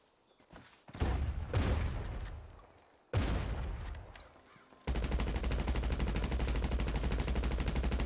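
Explosive shotgun rounds in GTA 5 go off as two big booming blasts that ring out and fade, then a sustained, loud roar of continuous fire.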